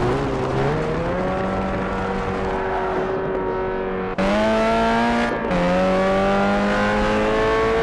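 A racing car engine in the mobile driving simulator Gran Velocita screams through the gears, pitch climbing steadily, dropping sharply at shifts and climbing again, loud and continuous with no talking.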